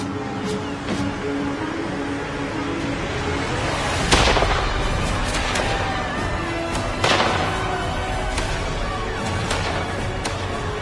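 Cannon bombardment of the port of Harfleur by the English during the siege, with heavy booming shots rolling over a dense, continuous battlefield din and two especially loud blasts standing out.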